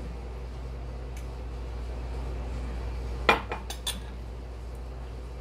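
Lamb longganisa meat is worked with water in a bowl against a quiet background, with a short cluster of sharp utensil clinks on the bowl.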